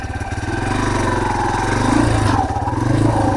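An off-road vehicle engine on a trail at Reiter ORV just after a downshift, a close, throbbing mid-pitched drone with pulsing rhythm that swells slightly as it pulls along.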